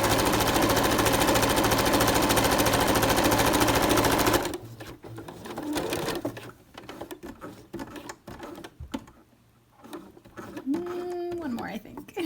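Sewing machine stitching a cloth mask with a replaceable filter, a loud, fast, continuous mechanical rattle that stops abruptly after about four seconds, followed by quieter handling noises and a few bird chirps.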